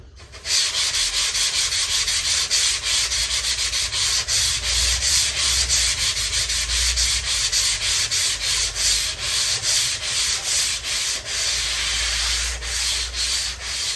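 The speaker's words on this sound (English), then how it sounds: "If you're going to rub a bit out, make sure you blend it in and you get a flat spot." Steady, continuous rubbing of an eraser over a pencil mark on a surfboard blank, close and fairly loud, with quick back-and-forth strokes running the whole stretch and no talking.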